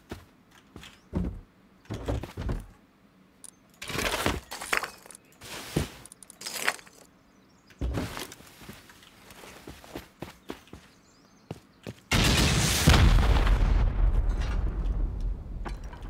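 Garage doors and a sheet metal door being raided in a video game: a series of sharp, loud blasts and thuds in uneven bursts, ending in a long, roaring explosion.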